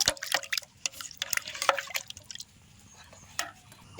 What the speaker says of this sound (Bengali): সেটা আমি বালতির মধ্যে ঢেলে দিচ্ছি